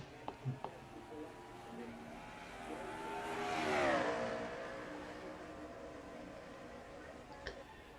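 A race truck at the Riverside track roars past in a rising and fading engine sweep, heard from a distance under an announcer's commentary.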